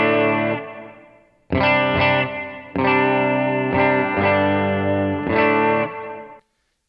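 Electric guitar played through a pedalboard with a chorus pedal, giving shimmering sustained chords in several separate strums with pauses between, loud and close, ringing out alone before cutting off.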